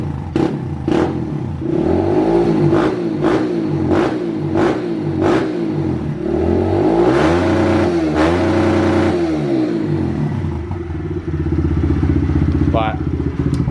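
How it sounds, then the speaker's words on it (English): A pit bike fitted with a new exhaust pipe revs hard up close, firing a run of sharp throttle blips before settling into longer, rising and falling revs, loud and raspy throughout. "And the pipe's on, sounds so much better, but unfortunately I can't leave it like this. It's gonna piss off the neighbors."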